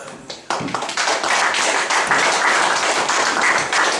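A congregation at a church service claps, starting with a few scattered hits then swelling into steady, loud applause from many people close by.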